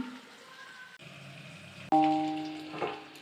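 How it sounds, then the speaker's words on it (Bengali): Onions frying in a pan for a Bengali katla fish kalia, a steady sizzle that flares loud and close as more goes in near the end. "এই যে এখন পেঁয়াজটা লাল লাল করে ভেজে নিচ্ছি"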